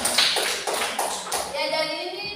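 A few brief claps in a classroom, several sharp separate hits over about a second, then fading into sustained background tones.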